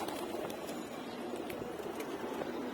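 Pigeons pour out of an opened loft under a cloudy sky with a storm on the way, brief wing flaps and soft coos rising over a steady wash of outdoor noise.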